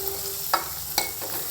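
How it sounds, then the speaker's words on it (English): A tadka of spices in desi ghee hisses softly in a pan, a low steady sizzle with two brief sharp clinks or stirs, close by and without talk. "this is tadka with desi ghee"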